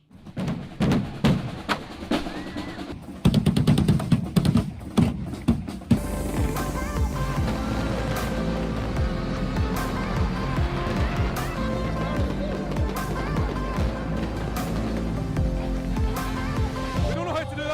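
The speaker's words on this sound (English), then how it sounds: "we do know how to do Hogmanay fireworks" Hogmanay New Year fireworks over Edinburgh Castle at midnight: a run of booming bursts and crackles, then a dense, continuous barrage of loud thuds and pops.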